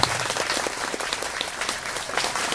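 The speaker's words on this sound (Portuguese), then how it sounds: "Eu gostaria de pedir a vocês uma salva de palmas a esses músicos." A church audience at a Palm Sunday service gives the musicians a round of applause, a full, continuous crowd clapping close by with a few scattered voices in the mix.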